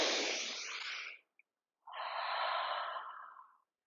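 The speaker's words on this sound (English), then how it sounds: "Let's do a sun breath." Two deep, forceful yoga breaths during a sun breath: a long airy inhale, a short pause, then a long rushing exhale, close and clear with no talk.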